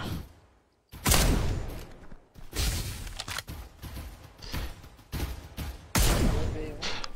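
Gunfire rings out in a battle video game in sharp, loud bursts near the 1, 2.5, 5 and 6 second marks, with quieter rattling in between.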